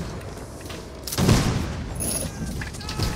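An infantry line fires a musket volley in the video game Mount and Blade Warband, a sudden loud burst of overlapping shots about a second in, trailing into scattered crackles, with voices talking around it.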